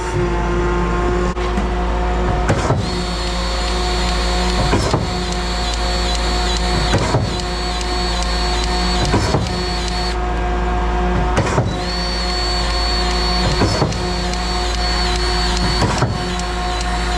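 A grease gun pumps grease into a shotcrete pump in a steady repeating cycle, with regular mechanical clicks and thumps over a constant low machine hum, close and continuous with no talk.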